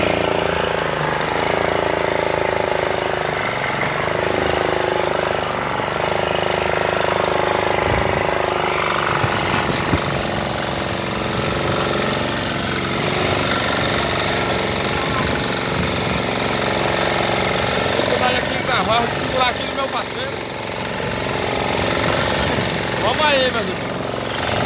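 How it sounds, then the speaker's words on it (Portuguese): A small fishing boat's outboard motor, on a 3.8-metre craft at sea, drones steadily and loudly throughout, a rough continuous engine rumble with a shift in tone partway through, while people talk over it. "Nosso mar tá nos preparativos aqui pra ligar o motorzão aí."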